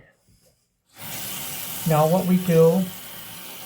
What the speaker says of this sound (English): we do a nice rinse to rinse out the conditioner